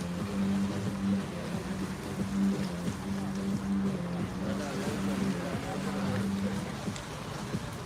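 Boat engines droning steadily in open water at the Trinidad and Tobago Great Race powerboat race, with a sustained low hum and wind and water wash throughout, moderately distant.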